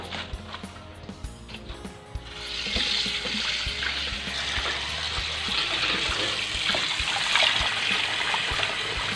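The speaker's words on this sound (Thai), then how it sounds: "ล้างให้สะอาดก่อนจ้า ล้างให้สะอาดเลย" Freshly picked noni leaves being rinsed clean, with running water starting after a few soft clicks and settling into a steady, close trickle and splash that continues to the end.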